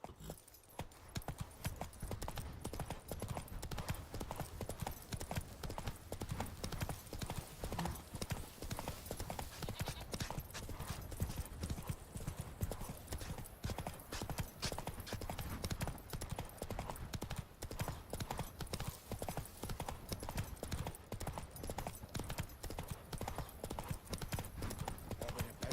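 In The Witcher 3, the horse Roach gallops at a steady fast clip-clop, with hoofbeats thudding continuously and evenly for the whole stretch.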